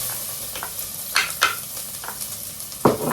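Garlic sautéing in oil gives a soft sizzle broken by several scraping stirs of a utensil against the pan, close by and moderately loud, with no talking.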